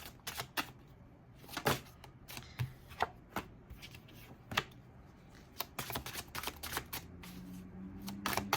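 Urban Tarot deck cards being shuffled and laid out on a table, soft irregular riffles, taps and snaps of card stock spread across the stretch, close and quiet with brief louder flicks.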